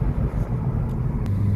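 A Mitsubishi Lancer rolling on newly fitted wheels, with a steady low engine and road rumble heard from inside the car, brief and even, with a faint click near the end.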